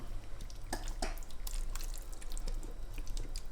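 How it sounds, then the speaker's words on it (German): About 250 ml of water is poured carefully onto stuffed peppers with minced meat in a pot, a close trickling and dripping splash with scattered droplet impacts that continue steadily. "Ich habe mir jetzt so 250 Milliliter Wasser genommen und gieße so vorsichtig."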